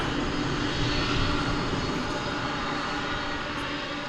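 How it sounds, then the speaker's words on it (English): An American Airlines Boeing 737-800 arriving from Austin at DFW Airport gives a steady, broadband jet engine roar, fairly loud and constant with no voices. "American Flight 261 coming in from Austin, Texas, the capital of the state, 737-800."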